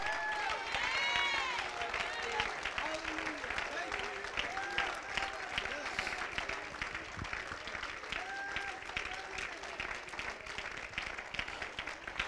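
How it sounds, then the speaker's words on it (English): Congregation applause in an Apostolic church service, many hands clapping steadily in a reverberant room with voices and murmured crowd sounds woven through it, sustained at moderate loudness. "Let's give the Lord a hand clap for"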